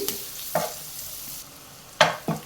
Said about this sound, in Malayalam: ഇനി നമുക്ക് അരിഞ്ഞു വെച്ചിരിക്കുന്ന പച്ചമുളകും കൂടെ ചേർത്ത് കൊടുക്കാം. 1 മിനിറ്റ് ഒന്ന് വഴറ്റിയെടുത്താൽ മതി.